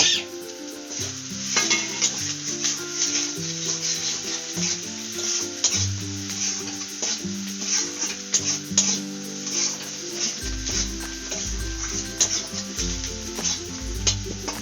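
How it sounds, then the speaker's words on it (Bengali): Onions seasoned with salt and turmeric sizzle in hot oil while a spatula scrapes and stirs them in the pan, giving a steady fry broken by repeated rhythmic scraping strokes, with no talk. "এই যে আধা ভাজা হয়ে গেছে পেঁয়াজটা"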